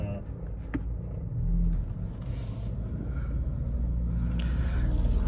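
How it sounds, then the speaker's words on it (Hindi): A Hyundai Sonata shifted into drive pulls away, heard from inside the cabin as a steady, close low engine and road rumble that swells slightly and holds throughout. "डी दबाया मैंने तो बस अब मैं गाड़ी को जो है ना जाने दूंगा, गाड़ी जाएगी आगे"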